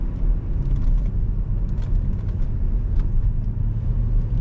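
A 2008 Mercedes-Benz ML63 AMG cruises off throttle, its engine a deep, steady rumble from inside the cabin with road noise and faint clicks, no voices.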